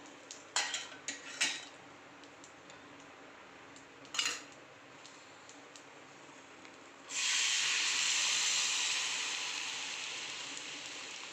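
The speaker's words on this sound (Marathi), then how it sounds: "आता आपण याच्यामध्ये दूध टाकून घेऊ" Milk poured into a pan of golden fried cashews and almonds while making fresh coconut barfi: a few utensil clinks first, then a sudden loud hissing sizzle that holds and slowly fades, close by with no talking.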